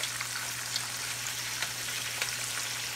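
Chicken wings for old-school buffalo hot wings fry in hot oil, giving a steady, dense sizzle with faint crackles and pops, close and continuous without talk.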